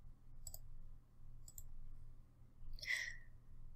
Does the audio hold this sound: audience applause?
no